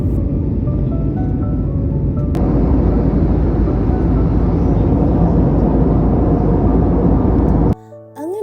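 A passenger aircraft climbs just after takeoff on a Dubai to Kerala flight, and a loud, steady broadband cabin roar fills the clip. A soft chime sounds briefly near the end as the noise drops away.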